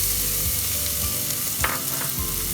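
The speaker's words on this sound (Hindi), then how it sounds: "अब इसमें लहसुन और अदरक जो है वो" Garlic and ginger frying in three tablespoons of oil for chicken fried rice, a steady close sizzle with occasional stirring scrapes, no talking.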